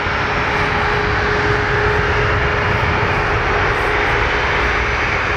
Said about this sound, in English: By the sound of the engines, I'm gonna guess it's a Max.